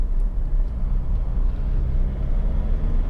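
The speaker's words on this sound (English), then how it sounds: "Engine starts absolutely instantly, very smooth, very even idle." Honda CR-V 2.2 i-DTEC diesel engine running close by, a loud, even low rumble with slight pulsing and no clear rev rise, steady throughout.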